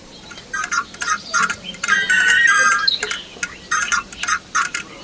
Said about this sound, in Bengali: একটা পরিচিত ফোনের রিংটোন বেজে উঠল